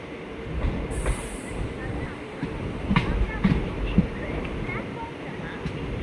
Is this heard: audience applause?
no